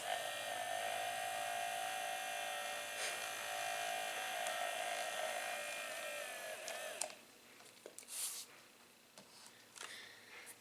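A small battery-powered motor spins a cork on a homemade art robot, giving a steady close electric buzz with a faint whine for about seven seconds before it cuts off, followed by a few light handling taps.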